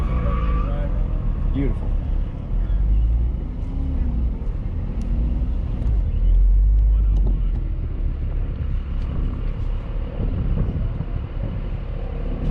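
A car runs on a Porsche Club autocross course at Thunderhill, a low engine rumble with wind buffeting the microphone, while people talk over it throughout.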